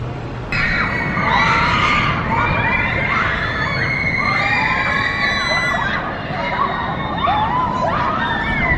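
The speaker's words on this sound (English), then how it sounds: "As you can tell by the screams, the funfair is open." At the Southend-on-Sea seaside funfair, many voices scream and shout together, loud and continuous, with rising shrieks from ride-goers over a thick crowd din.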